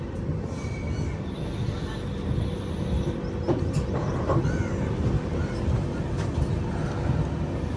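Riding aboard the Kerala Express as it pulls into Renigunta railway station, a steady low rumble of wheels and carriage noise fills the space, with faint clicks and distant voices.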